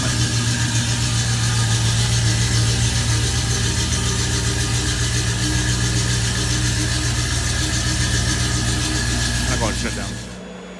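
A 1967 Pontiac GTO engine idles steadily and close by, a low, even rumble with slight rhythmic pulsing, with a person talking over it at times.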